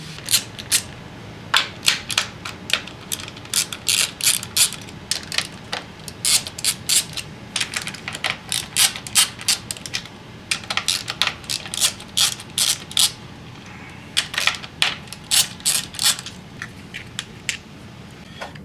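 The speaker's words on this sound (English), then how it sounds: "Next, there is 2 10mm bolts, one here and one on this side, that we need to take out." Ratchet wrench backing out 10mm bolts from the ignition coil unit on a 1.7L SOHC Honda engine: rapid, close bursts of sharp clicking, repeated in quick strokes with brief pauses between.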